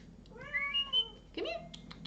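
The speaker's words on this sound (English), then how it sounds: "Meow, meow." A cat lets out a drawn-out, rising meow and then a shorter second one, close and clear in a quiet room.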